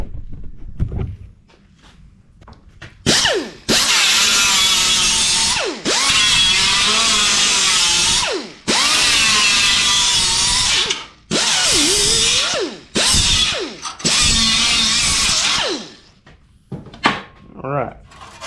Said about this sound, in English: That's what we're gonna grind off real quick.